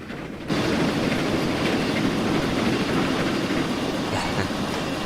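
Train with Mark 1 coaches running in the Train Simulator game on a 1950s Riviera Line route: steady loud rolling rumble with faint clickety-clack of wheels, starting after a brief quieter moment.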